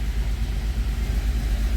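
A Pontiac Grand Am GT with a swapped 3800 V6 idles right after its first start-up, still untuned, giving a close, steady low rumble with a rapid uneven pulse and no talk.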